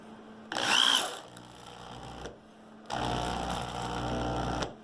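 A Metabo SBE 650 drill with a masonry bit whines and grinds into hard material in two loud bursts, separated by a short pause.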